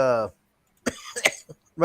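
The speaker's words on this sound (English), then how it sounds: "coughing my ass off here." A short burst of coughing, a few rough hacks in quick succession, after a moment of a voice speaking.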